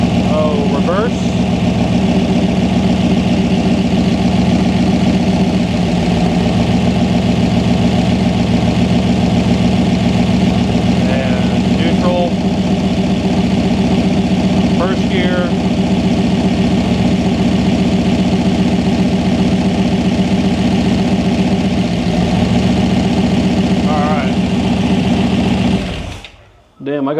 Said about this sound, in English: The motor actually runs, transmission shifts for now